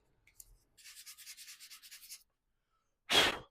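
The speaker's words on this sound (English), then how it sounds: "this is 220 grit, so not super coarse, but enough that I can pull some paint off." Hand sanding with 220-grit sandpaper on a vintage LeMond aluminum bike frame to strip paint, a series of quick close rasping strokes, then a pause and one louder final scrub.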